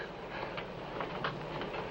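Subway train running through a tunnel beneath a river, a steady loud rumble with faint rhythmic clatter from the cars, no voices.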